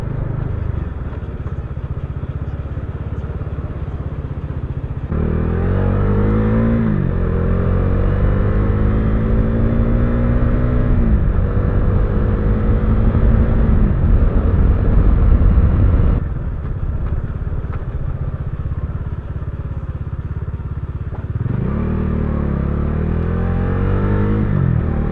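A Bajaj Dominar 400 motorcycle rides at night, its engine droning steadily up close with repeated rising revs as it accelerates through the gears, and no voices.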